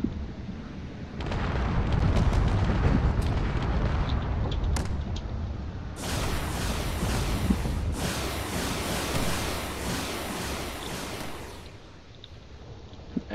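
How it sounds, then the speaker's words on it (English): A falling battleship in a space combat video game keeps firing, heard as a continuous roar of explosions and heavy booming blasts. Dense bursts of loud crackling fire join in partway through, with no talking over it. "While this battleship is falling, is still firing"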